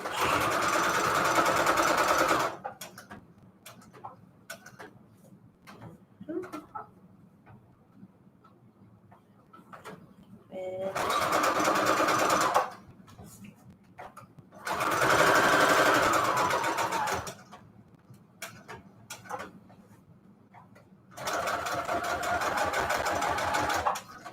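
A sewing machine stitches paper notecards made from bedsheet fabric in four separate bursts of rapid mechanical whirring, with quiet handling and clicks in the gaps between runs.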